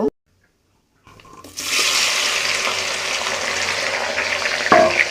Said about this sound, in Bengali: এখন আমি চালতাগুলোকে তেলের মধ্যে একটু ভেজে নেব